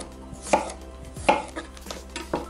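Knife cutting potatoes on a board, several crisp chopping knocks, two louder then a few softer ones, close up with no voices.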